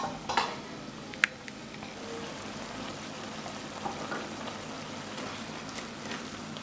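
Soya chunk noodles cook in a hot pan with a steady, soft sizzle and a few faint clinks near the start, with no talking.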